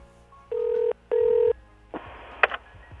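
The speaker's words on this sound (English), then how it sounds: "he pulled his phone out of his pocket before dialing the one person who could end this" Phone number dialing effect in an audio drama: two long, steady electronic dial tones, then softer button presses and a brief sharp beep, close and clean with nothing else heard.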